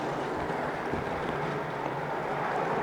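A 2011 Yamaha 75hp four-stroke tiller outboard running in reverse in a test tank, a dense, steady engine drone with churning water, loud and unbroken throughout.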